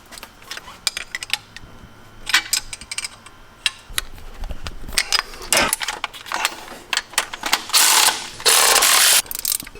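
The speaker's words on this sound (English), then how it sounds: "now it's time to bolt up this beautiful Artec Performance manifold" Hand ratchet bolting an Artec Performance manifold onto a Honda CR-V engine, heard as scattered close clicks and clanks of tools and hardware, ending in two bursts of sustained broadband ratcheting.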